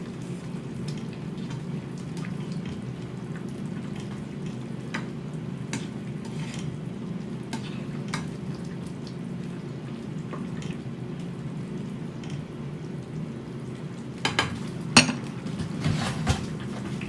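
Eggplant and spices are stirred together in a cooking pan in a home kitchen, with steady, soft clatter and light scraping throughout and a few sharper metallic clinks of a utensil on the pan near the end.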